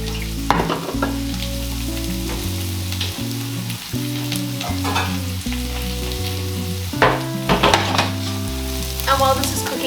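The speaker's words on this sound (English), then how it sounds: "let them simmer, saute, until the until the carrots are nice and soft" Carrots sautéing in a pan for shepherd's pie, a continuous soft sizzle broken by the scrape and clatter of stirring, with background music playing throughout.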